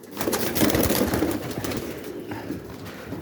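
Young pigeons coo and flutter close by in a loft at feeding time, a dense cluster of soft throaty calls with wing rustles, fading toward the end.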